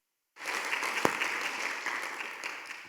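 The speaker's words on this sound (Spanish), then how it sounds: "Dele un aplauso al Señor." A congregation bursts into applause after near silence, a sustained crackle of many hands clapping at close range, with one sharp, louder clap standing out early on.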